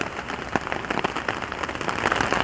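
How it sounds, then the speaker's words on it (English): Steady rain patters onto a tarp shelter overnight in the bush, a dense continuous drumming with scattered louder drops striking close by, no voices. "the rain's just coming in on a certain angle"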